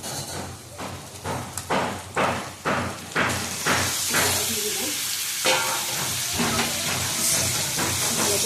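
Chicken pieces sautéed in a hot pan for chicken kosha, salted, with a loud broadband sizzle that swells when the meat drops in and carries on under steady scraping and stirring strokes, with no talk.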